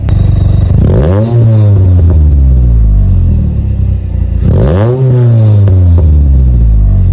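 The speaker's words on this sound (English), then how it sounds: "sounds great, sounds really smooth" A Ford Fiesta Mk6 ST150 with its 2.0 litre Duratec engine revs twice in close succession, each blip climbing sharply then falling back to a steady idle, loud and close with no talking.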